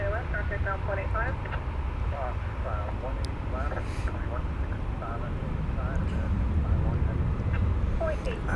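A heavy American Airlines jet takes off at DFW Airport, a loud, steady low roar that fills the whole stretch, with radio chatter running over it throughout.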